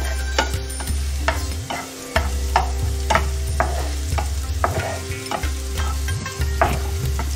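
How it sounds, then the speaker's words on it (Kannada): Cabbage, cauliflower, beans, carrot and spring onion stir-fried for spring rolls, with a steady low sizzle under repeated scraping strokes of a spatula against the pan, close and continuous. "ಎಲೆಕೋಸು, ಹೂಕೋಸು, ಬೀನ್ಸು, ಕ್ಯಾರೆಟು, ಸ್ಪ್ರಿಂಗ್ ಆನಿಯನ್ ಇದೆಲ್ಲ ಸ್ವಲ್ಪ ಅರ್ಧ ಫ್ರೈ ಆಗಬೇಕು."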